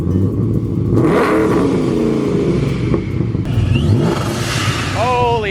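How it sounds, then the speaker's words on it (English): A McLaren 600LT launches hard off the line, its engine roaring and climbing in pitch through rapid gear changes, loud and close, with someone talking over it. "I'm just gonna floor it off the line because building up boost,"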